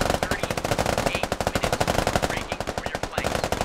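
Rapid bursts of automatic machine gun fire from several weapons in the military shooter Operation: Halberd, loud and continuous across the whole stretch with dense, overlapping rattling shots.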